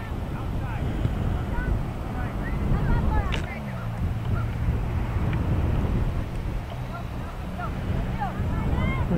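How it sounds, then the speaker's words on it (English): Wind buffets the microphone at a soccer field during a youth peewee game, a steady low roar and rush throughout with voices talking and calling in the background. "The wind is blowing."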